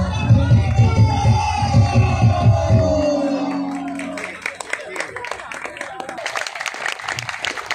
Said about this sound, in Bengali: তোমরাও হাততালি দাও।